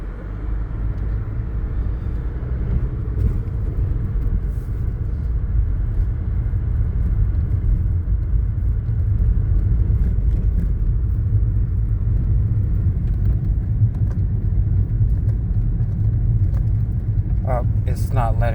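A car compared to a Range Rover drives along with a steady, loud low engine and road rumble that fills the whole stretch, with people talking over it throughout.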